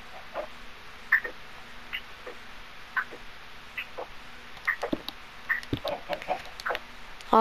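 Chickens clucking in the Minecraft video game on PlayStation 4, a series of short, soft clucks repeating at irregular intervals over a quiet steady background hum, with no speech.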